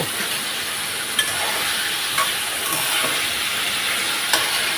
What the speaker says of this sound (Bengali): আমি একটু ভালোভাবে নেড়ে নিচ্ছি।